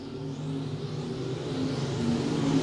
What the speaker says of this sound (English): Dixon and Keith Simmons still side by side for the lead down out of turn number 4